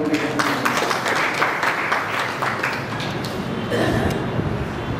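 An audience at a community gathering claps in a sustained burst of applause lasting several seconds, with a voice over a sound system heard alongside it.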